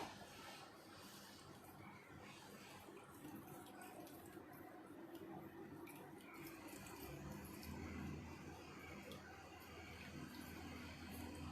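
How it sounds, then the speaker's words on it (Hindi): Water drains steadily as freshly strained milk curds (chhena, made from Amul milk) are squeezed for Bengali sweets like rasgullas. A continuous, moderately loud trickle and splash runs unbroken for the whole stretch. "इसमें से पूरी तरह से पानी निचोड़ लेना है।"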